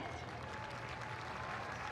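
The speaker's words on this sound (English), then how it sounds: "Give yourselves a round of applause." Steady, distant applause from a crowd at a law school commencement and hooding ceremony, an even wash of clapping throughout with no individual claps standing out.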